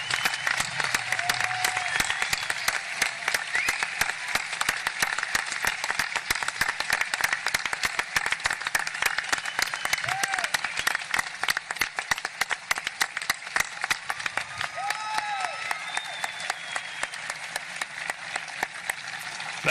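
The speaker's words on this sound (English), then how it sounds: "Let's give these students a round of applause." A crowd at a high school graduation applauds the graduating students: dense, loud clapping that holds steady for about twenty seconds, with scattered whistles and cheers rising above it.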